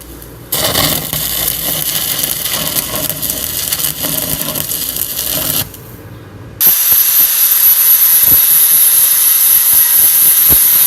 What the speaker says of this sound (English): This is why I like having a grinder. It allows me to smooth out these edges so that it all appears to be one solid piece of metal.